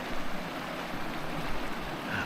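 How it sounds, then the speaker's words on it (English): A flowing stream near Crabtree Meadows on the John Muir Trail gives off a steady, moderate broadband rush of water, continuous and even with no voices over it. "Good flowing stream."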